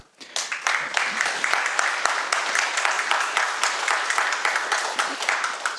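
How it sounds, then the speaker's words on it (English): A round of applause from a conference audience at a Python event, dense clapping that starts abruptly and holds steady and loud, with individual sharp claps poking through the crowd sound. "I already got a round of applause, so that's nice."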